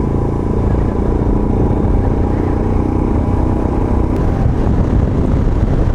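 A 2021 Royal Enfield Himalayan's small-capacity engine drones loudly and continuously while riding, with a steady throaty rumble and faint wind noise.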